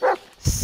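A dog barks in the Blair Witch video game, giving one sharp, fairly loud bark at the start, followed by a low rumbling game ambience.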